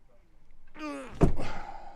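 A large storage locker door on a modern motorhome swings on a creaking hinge, then shuts with a single solid, close thud.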